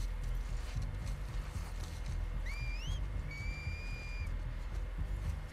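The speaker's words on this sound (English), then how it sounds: "They just be whistling, just a whistle, bruh." An enemy's signal whistle in The Last of Us Part II: a few clear, rising-then-steady whistled notes from a distance over a quiet, rumbling ambient background, with no talk.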